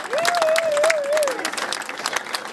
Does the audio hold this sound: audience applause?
yes